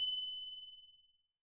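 A single bright ding rings out and slowly fades over about a second, clear and alone.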